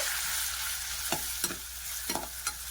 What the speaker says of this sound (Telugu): ఇప్పుడైతే మనం కద్దు వేసేద్దాం ఇది కూడా బాగా ఫ్రై అవ్వాలండి